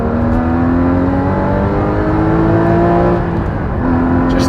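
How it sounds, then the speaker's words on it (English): A Porsche GT4's 3.8-litre naturally aspirated mid-mounted engine revs steadily with the sports exhaust open, a loud, close, continuous engine note rising and holding with strong harmonic drone throughout. "if I engage Sport, put the Sports exhaust on, there's more than enough power"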